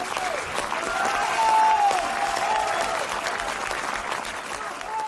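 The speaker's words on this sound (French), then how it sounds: "applaudissez bien fort les ménestrels de la dextre paluche" An audience applauds a pair of minstrels on a stage at a village gathering, steady sustained clapping filling the room with a few scattered voices mixed in.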